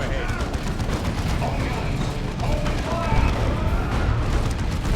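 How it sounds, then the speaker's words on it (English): A Chaos Shrine of Tzeentch fires Doom Bolts at scouts in Dawn of War II: Retribution, amid a dense, unbroken clatter of gunfire and impacts from the surrounding battle. "It's starting to shoot out some Doom Bolts at those scouts."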